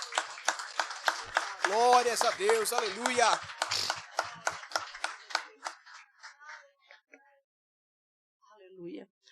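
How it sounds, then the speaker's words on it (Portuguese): A church congregation claps loudly in a rhythmic beat while a voice praises God over it, then the clapping thins into scattered claps and fades to near silence. "aplaudindo bem forte o nosso rei."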